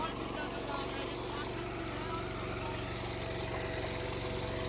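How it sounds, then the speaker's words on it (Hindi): A machine engine under load, pulling through soil, drones steadily and loud at close range, with a constant low hum and knocking texture throughout. "मशीन स्लिप देखो कैसे ले रही, पर आरपीएम ड्रॉप नहीं कर रही।"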